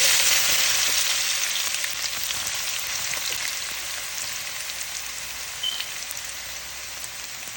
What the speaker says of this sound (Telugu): ఇప్పుడు ఉల్లిపాయ పచ్చిమిరపకాయ ముక్కలు వేస్తున్నాను.